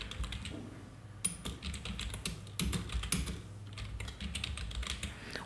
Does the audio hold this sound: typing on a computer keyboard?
yes